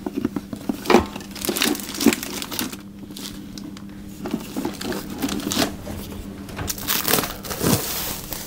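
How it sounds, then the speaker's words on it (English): Plastic wrap crinkles and crackles while it is pulled over a bowl of oatcake dough. Irregular close rustling bursts run throughout with no talk. "cover that with some plastic wrap"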